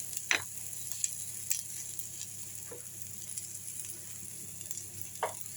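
Masala for a sankara fish curry sautés in a pan, giving a soft, steady sizzle with a few light stirring taps and scrapes, close and fairly quiet.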